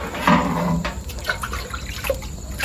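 Water scooped and poured from a large earthen water jar, a few close splashy sloshes and trickles with drips, no talking.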